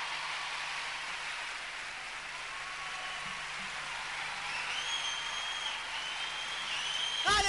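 An audience at a comedy parody show applauds in a steady, dense patter of clapping that sounds fairly distant and even, swelling slightly near the end.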